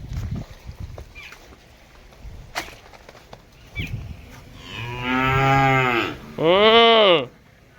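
A buffalo lets out two long, loud lowing calls nearby after some quieter shuffling and faint voices, as the animals are set loose to go drink water.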